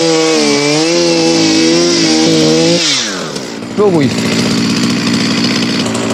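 A chainsaw runs loud and close with a strong droning whine, then its pitch drops as it slows and settles into a rougher idle, while people talk over it in Polish.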